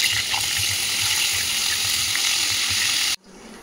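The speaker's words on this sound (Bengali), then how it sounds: "কাঁকড়াগুলো এক এক করে ভেজে নেব।" Crabs from the Sundarbans frying in hot oil, a steady loud sizzle with crackling pops that runs continuously and then cuts off abruptly near the end.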